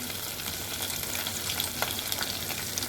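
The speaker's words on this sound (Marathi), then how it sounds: "लसूणची पेस्ट आपण घेतली थोडीशीच घेतली मी जास्त नाही घेतली याला व्यवस्थित परतून घेऊया आपण" A small amount of garlic paste sautés in a pan, giving a dense, continuous sizzle and crackle close to the microphone, with light stirring mixed in and no talking.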